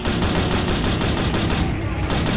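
Sustained automatic gunfire in Delta Force: Black Hawk Down, a dense, loud, unbroken rattle of rapid shots filling the whole moment at close range.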